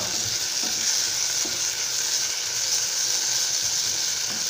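Grated coconut being stirred and dry-roasted in a pan, a constant close, dry hissing sizzle with faint scraping from the stirring, steady and uninterrupted, no voices.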